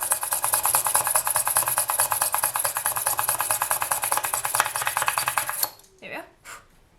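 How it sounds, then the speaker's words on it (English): A hole drilled by hand through a polymer clay heart makes a fast, steady rasping scrape with an even rhythm for about five seconds, then stops abruptly, leaving a couple of faint soft rustles. "So, start drilling in the middle, like so. We make a little hole, and then start pushing."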